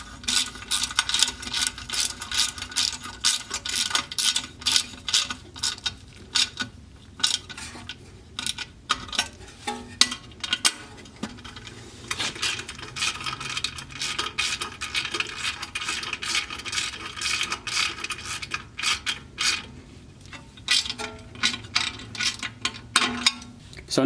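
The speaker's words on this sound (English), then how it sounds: "I'm gonna grab my 10mm socket, tighten down those two nuts" A 10mm socket ratchet rapidly clicks in bursts while tightening caliper nuts on an Audi wheel, the metallic ratcheting close and fairly loud, with brief pauses between runs.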